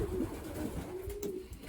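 Racing pigeon cooing in a loft among young birds, a low steady burbling coo that runs continuously at moderate level against a dull background rumble.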